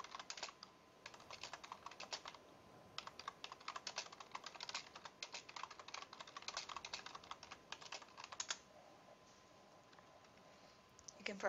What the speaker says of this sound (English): You can probably hear my typing noises